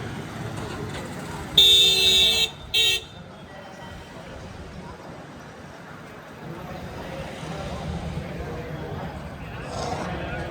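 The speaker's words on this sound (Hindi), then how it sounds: "देखिए काफिला यहाँ पर जाता हुआ तमाम गाड़ियों का" A convoy of cars passes during a welcome procession in Haldwani. A loud car horn toots twice near the start, then a steady roadway rumble continues under people talking.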